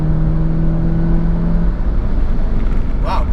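A turbocharged 400 HP big-turbo Audi A3 2.0T pulls hard on a racetrack in fourth gear after a short shift. The engine drones loud and steady from inside the cabin, with its tone dropping away partway through.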